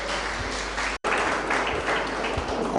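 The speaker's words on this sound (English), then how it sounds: "I'll request everyone to put a round of applause for them." An audience at a stock-analysis seminar applauds the presenters, steady dense clapping throughout, broken by a brief dropout of sound near the one-second mark.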